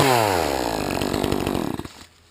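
A Pioneer chainsaw with a 28-inch bar roars at high revs, its engine pitch sliding downward as it winds down over about two seconds before falling quiet.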